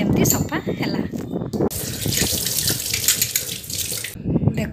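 Conch-shell bangles being washed under a running tap at home, the water gushing steadily in a sink while someone talks over the splashing and handling of the bangles.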